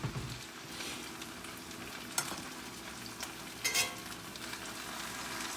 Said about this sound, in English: I did turn the fire up a little bit higher because I want my potatoes to fry with a crunch on it.